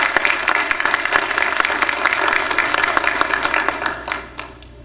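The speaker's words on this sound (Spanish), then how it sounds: "Un aplauso, por favor." Audience applause at a legal congress in Mexico City, a dense burst of many hands clapping that fades out near the end.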